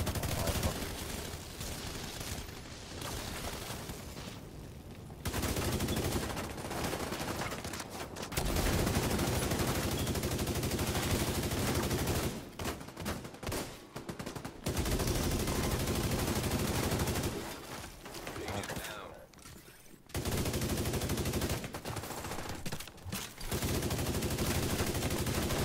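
Gunfire in The Division 2 comes as dense, loud bursts of automatic fire that run almost continuously, broken by a few short pauses.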